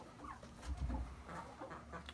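Chickens settling in to roost make soft, low clucking murmurs at close range, a brief run of mellow calls with no voices over them.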